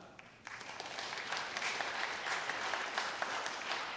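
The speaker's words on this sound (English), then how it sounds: "Please give yourselves a round of applause for a start." An audience applauds at a sponsor launch in the State Library of Victoria, starting with a few claps and swelling quickly into full, steady clapping that continues to the end.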